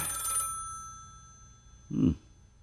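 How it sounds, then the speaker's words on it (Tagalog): A short ringing tone sounds at the start, then after a quiet pause a brief, louder low burst, like a telephone bell ringing once more. "May tumatawag sa telepono."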